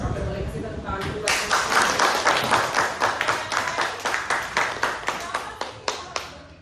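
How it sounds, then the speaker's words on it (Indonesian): Elementary students in a classroom clap together, starting with a few scattered hands and then breaking into loud, steady rhythmic clapping that gradually thins to a few last claps. "Oke, boleh kasih tepuk tangan juga."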